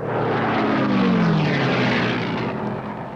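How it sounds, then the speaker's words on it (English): A P-51 propeller fighter roars past at an air race, a loud droning engine rising and then sweeping down in pitch as it passes close by, with no voices. "signals the beginning of a dangerous duel for first place with Bob Love in another P-51"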